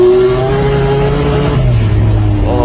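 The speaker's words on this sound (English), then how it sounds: "20B Bridgeport sound, the buzz, when the car shakes" Mazda RX7 with a 1000 hp 20B bridgeport rotary engine revving in a garage, a loud, close, buzzing drone that holds steady then drops in pitch and picks up again.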